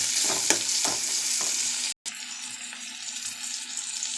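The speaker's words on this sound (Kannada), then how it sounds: "ಅದು ಈರುಳ್ಳಿ ಹಾಕ್ಕೊಂಡು ಫ್ರೈ ಮಾಡ್ಕೊತಾ ಇದ್ದೀನಿ" Onion fries with grated ginger and garlic in a pan, a steady close sizzle broken by a few stirring scrapes in the first half and a brief gap near the middle.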